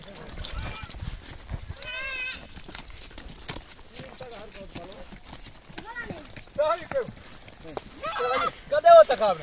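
Goats bleat repeatedly, wavering cries over a background of people talking outdoors.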